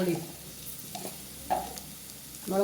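Chili powder and ground spices sizzle in hot oil for chicken curry, stirred in the pan, with soft scraping strokes and brief louder bursts of frying, near and alone.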